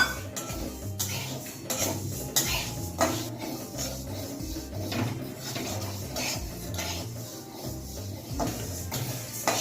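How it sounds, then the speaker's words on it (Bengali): Dry lentils scrape and rattle against a metal wok as they are dry roasted and stirred, in steady repeated strokes close by. "এবার তার মধ্যে দেবো সে ডালটা। এটা শুকনো করে একটু নেড়ে ছেড়ে নামিয়ে নেব।"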